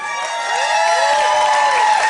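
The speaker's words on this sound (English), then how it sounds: "So we need lots of applause and..." A TV cooking-show audience claps and cheers loudly and steadily, a dense wash of crowd noise with a high musical tone running through it.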